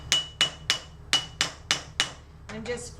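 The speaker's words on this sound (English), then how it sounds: "my hammer is a rawhide hammer with no weight in it" A rawhide mallet with no lead weighting strikes metal shaped over a mandrel: seven sharp, evenly spaced blows ring out close and loud, followed by a softer scraping shuffle as the piece is handled.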